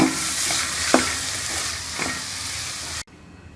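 Potato samosa filling with coriander and mint is stirred in a hot pan, giving a loud, steady sizzle with a few scraping strokes, ending abruptly.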